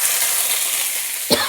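Radhuni and mustard seeds sizzle in hot oil with a steady hiss, and a brief clunk from the pan sounds near the end.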